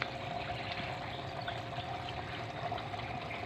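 Water drains through a homemade filter, a faint, steady trickle and splash that continues evenly with no voices over it.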